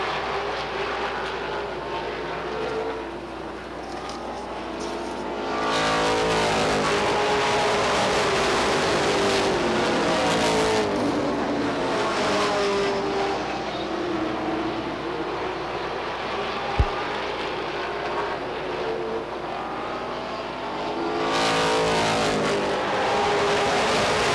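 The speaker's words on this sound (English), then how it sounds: "A couple of cars just out doing testing." Late model race cars out testing at Beech Ridge Motor Speedway in 1990, engines roaring loudly as they pass and circle the track, swelling and fading in long sustained sweeps with no talking.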